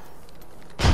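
A grenade explodes in the Apex Legends battle game, a sudden loud, close blast that bursts in at the very end after a quiet stretch of low background noise.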